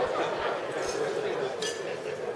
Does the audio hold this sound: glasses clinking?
yes